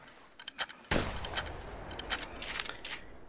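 A single loud shotgun blast rings out during a mallard duck hunt in The Hunter Classic, a sharp report followed by a decaying tail, with faint clicks before it.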